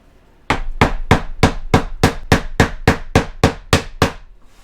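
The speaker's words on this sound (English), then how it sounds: "And we hammer this in." A hammer strikes a tapping block against Lifeproof vinyl plank flooring, about fourteen sharp, evenly spaced knocks in quick succession, loud and close, with no talking.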